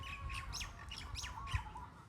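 A duck on a farm gives a string of quick, faint squawks, four or five short calls in a row at a moderate distance with low background rumble and no speech.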